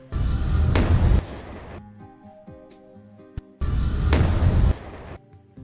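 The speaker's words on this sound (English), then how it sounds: "It just sounds too much like a gunshot" A sharp, gunshot-like sound effect cracks out twice, each followed by a rumbling boom and decaying tail, with a tonal musical bed sounding in the quieter stretch between the two blasts.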